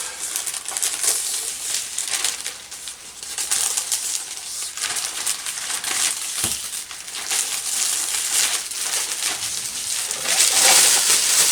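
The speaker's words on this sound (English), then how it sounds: "just peel the clear part off" Clear plastic backing film being peeled off covering material during a scratch-built RC airplane wing build, a steady close crackling, crinkling rasp that runs without a break and grows louder and brighter toward the end.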